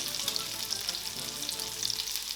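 A pork chop sizzles and crackles steadily in a hot frying pan, a close, continuous hiss with scattered small pops throughout and no voices.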